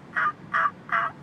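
A turkey gobbles three times in a barnyard, evenly spaced, fairly close and clear over a quiet background, with no talking.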